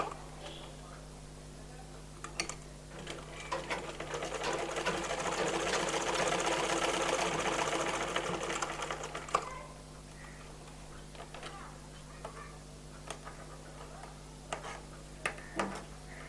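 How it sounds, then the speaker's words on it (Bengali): A sewing machine stitches the side seam of a baby frock, a soft continuous whir that swells and fades through the middle of the clip over a quiet room with scattered small clicks. "সাইডের এই সেলাইটা ডাবল করে দিতে হবে"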